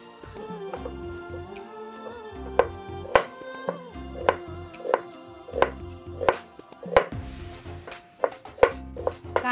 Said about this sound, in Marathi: चला आता कांदे कापून घेऊया